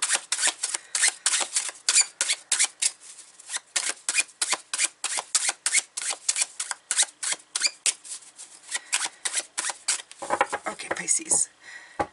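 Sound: tarot cards being shuffled

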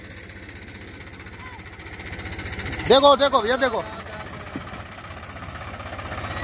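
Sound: Sonalika/Powertrac tractor engine running

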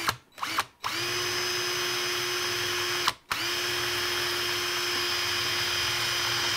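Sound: power drill drilling out locator pin in motorcycle handlebar

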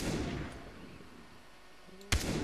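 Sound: gunshots in the video game Far Cry 3

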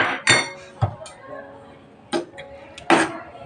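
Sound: banana pieces added to pot for kheer

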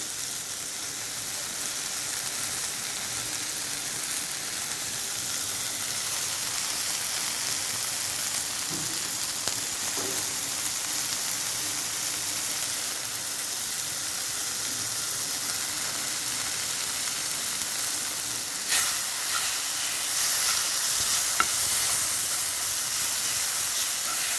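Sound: chicken meat being stir-fried in a pan

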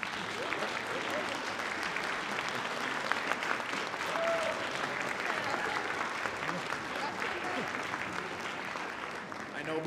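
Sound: audience applause

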